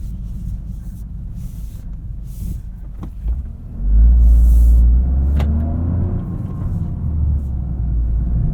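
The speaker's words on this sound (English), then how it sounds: "This 3-cylinder turbo sounds really entertaining. Makes some really cool turbo noises." A 2023 Toyota GR Corolla's turbocharged three-cylinder engine drones low while driving on the street. It swells into a louder, deeper rumble partway through, with a few faint clicks and a brief whoosh above it.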